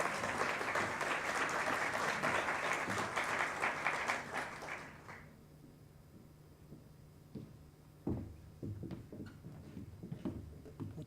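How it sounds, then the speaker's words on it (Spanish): Audience at a school quality seminar breaking into dense, sustained applause that fades after about five seconds, followed by scattered handling noises and a few faint knocks in a quiet room. "Y también un aplauso"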